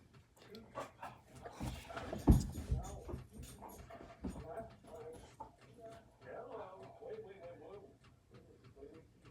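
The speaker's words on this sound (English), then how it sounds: "y'all definitely hear that dog now." A dog whimpers and yips intermittently in the background of a nail salon while someone applies colored acrylic with a brush, the soft whines rising and falling under nearby talk and small clicks.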